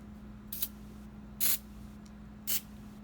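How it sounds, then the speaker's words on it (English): Three short hissing bursts of cleaner sprayed onto a High Standard Supermatic Citation pistol's parts, close and crisp, with brief pauses between them over a faint steady hum. "I'm going to spray this down."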